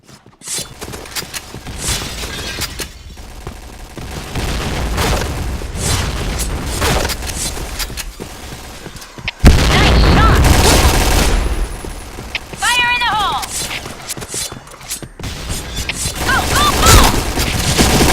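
Grenade blasts and gunfire in a Counter-Strike match: heavy booms with bursts of rapid shots, loud and close, including one big explosion near the middle, with brief metallic ringing and quieter shooting around it.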